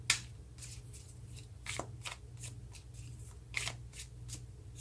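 Tarot cards shuffled by hand, a quiet, close series of soft riffling snaps and flicks repeating in an uneven rhythm over a low steady hum.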